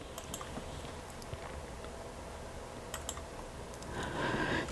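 Computer keyboard keys are pressed for shortcuts, a few light, sparse clicks scattered over quiet room noise, close but soft, with a brief rustle near the end.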